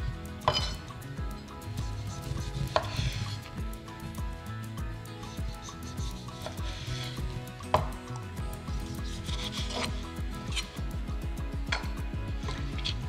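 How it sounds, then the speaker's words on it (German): A knife chops tomatoes into quarters and then halves on a cutting board, giving a steady series of close, crisp thuds and taps at an even rhythm with no talking. "Nun sind die Tomaten an der Reihe. Die werden auch geviertelt und dann nochmal halbiert."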